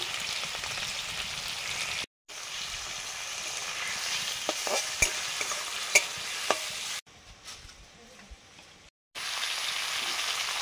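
Prawns rubbed with salt and turmeric frying with black cumin and green chilli, a soft continuous sizzle with sharp clicks and taps of stirring, briefly cut to silence twice, heard close and without talk.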